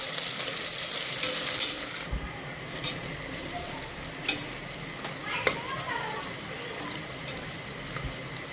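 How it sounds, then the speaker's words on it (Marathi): Chopped onions sizzling and frying in a pan for a hotel-style veg pulao, stirred now and then with soft scraping and a few clicks of a spoon against the pan, and a faint voice in the background. "कांदा टाकल्यानंतर कांदा मिक्स करून घ्यायचा आहे आणि हलकासा ब्राऊन होऊ द्यायचा आहे आपल्याला कांदा"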